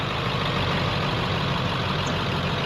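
A dump truck's old 7.3 engine held at full throttle while stuck, a dense continuous low roar with steady loudness and no talk.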